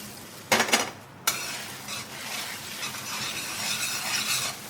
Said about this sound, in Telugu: ఇప్పుడు మనం ఇలా ఎగ్ మొత్తం వేసేసుకుందాం. త్వరగా స్క్రంబుల్ చేసేసుకుందామండి